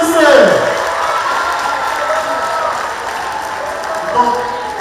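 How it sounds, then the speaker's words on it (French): A festival panel audience breaks into applause and cheering, a dense wash of clapping with whoops and crowd voices, loud and sustained, with a voice briefly heard at the start. "Applaudissez."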